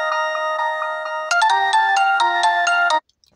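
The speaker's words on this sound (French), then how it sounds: "j'ai oublié de couper la sonnerie de mon téléphone" A mobile phone ringtone goes off during a French talk or sermon, a loud, close electronic melody of bright repeating tones that shifts into a busier pattern partway through and then cuts off abruptly.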